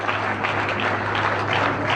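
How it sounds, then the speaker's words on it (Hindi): Steady, dense applause from a crowd at an event in Jammu welcoming the chief guest, continuous and fairly loud throughout without a break. "जोरदार तालियां नाल इस्तकबाल करो"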